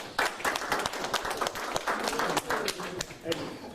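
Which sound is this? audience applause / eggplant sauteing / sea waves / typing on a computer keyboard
audience applause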